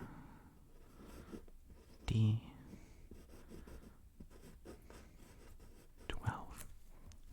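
A pen scratches softly on a paper character sheet for a tabletop role-playing game, quiet close strokes under a low whispering voice.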